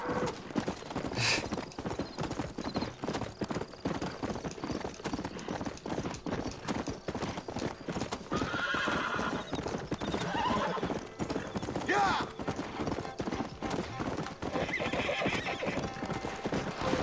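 Rapid, steady hoofbeats of a galloping horse in Red Dead Redemption continue throughout, with a loud whinny partway in and game ambience underneath.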